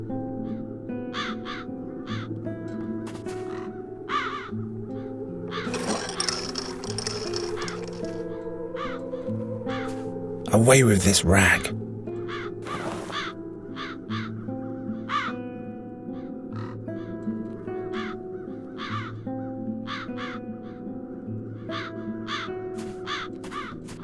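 Crows caw repeatedly in the adventure game The Dark Eye: Chains of Satinav, with sharp calls recurring throughout over a low ambient music bed and a brief louder burst midway, while a voice speaks briefly.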